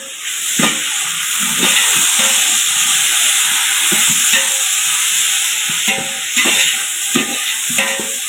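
Tomatoes and onions sautéing in a pan give a continuous close sizzle with hissing steam and occasional scraping stir strokes, steady and fairly loud with no speech.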